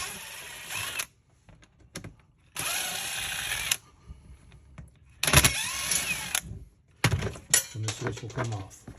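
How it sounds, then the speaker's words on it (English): Powered driver bursts removing the screws from a Club Car DS golf cart forward/reverse switch, three loud whirring runs separated by pauses and quieter handling clatter, with no one talking. "Pull the lever off and then take these 3 screws out."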